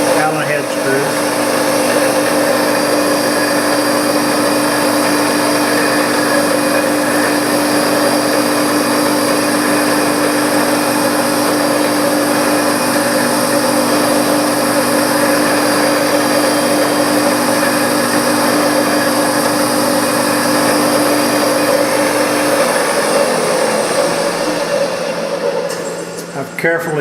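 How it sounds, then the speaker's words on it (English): Drilling clearance holes in metal with a number 32 drill after center drilling, a steady loud motor whine with fixed tones holding for the whole stretch and shifting slightly near the end, no talk. "I'm going to center drill, and then I'm going to clearance drill with a number 32 for those 440 Allen head screws"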